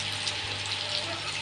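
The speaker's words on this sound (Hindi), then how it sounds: "जैसे मैं इसमें अब ऐड कर रही हूँ पानी" Water poured into a hot pan of frying potato bhujiya, a loud steady rushing, sizzling hiss lasting the whole moment with no pauses.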